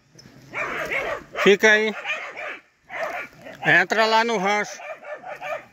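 A dog at a rural riverside fishing spot barks and whimpers in several loud, close bursts, with a person talking over and between the barks.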